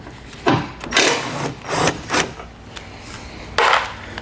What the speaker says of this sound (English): we're going to use a 5mm Allen head. We're going to take this bolt out.